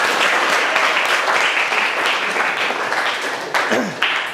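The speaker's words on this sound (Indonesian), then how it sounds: "berikan tepuk tangannya anak-anak" Children clapping together in a classroom after a group presentation, a dense, steady burst of applause lasting several seconds with a few louder claps near the end.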